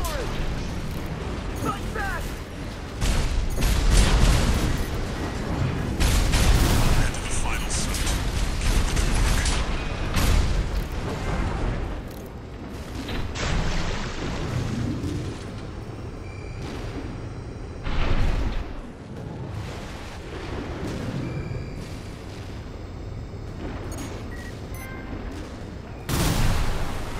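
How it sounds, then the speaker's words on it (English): Heavy artillery fire and weapon blasts from mechs in the video game Armored Core 6 batter the mix in dense, repeated bursts and booms, with voices talking over the barrage throughout. "Enemy attack! That's the artillery!"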